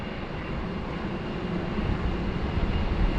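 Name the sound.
Rex aircraft passing at Sydney Airport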